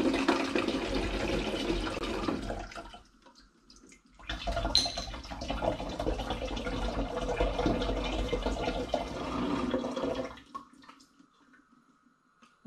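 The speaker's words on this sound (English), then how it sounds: "I'm just going to simply pour the coconut water from the carton through the funnel into the fermentation vessel" Coconut water gushes from a carton through a funnel into a fermentation vessel for sparkling wine, a steady close pour that pauses briefly, resumes, then stops near the end with no talking.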